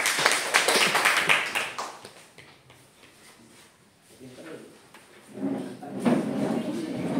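A classroom group applauds in a burst of quick, overlapping claps for the first student group after their presentation. The clapping fades, then people start talking.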